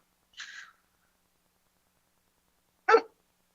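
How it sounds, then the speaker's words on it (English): A dog barks twice in a quiet indoor setting, two short separate woofs a few seconds apart, fairly distant and alone with silence between. "Yeah, I got a barking dog."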